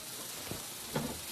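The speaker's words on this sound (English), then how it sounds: "Look at that sizzle." A hot sub sizzles on a grill at Jersey Mike's, a steady soft hiss and crackle with a couple of small pops, faint and with no voices.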